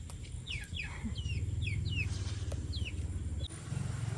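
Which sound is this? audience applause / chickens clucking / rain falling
chickens clucking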